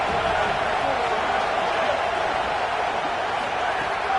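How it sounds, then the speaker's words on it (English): Stadium crowd in an NCAA college football video game, with Alabama fans roaring on third down. A dense, loud, unbroken wash of crowd noise fills the clip, with a voice speaking over it. "The Tide crowd rolling noise down on the Saban field on 3rd down"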